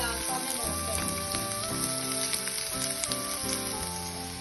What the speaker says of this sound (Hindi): उसमें आपने 2 टेबलस्पून ऑयल डाल देना है। साथ ही आपने 1 अदर स्लाइस में कटी प्याज डाल देना है।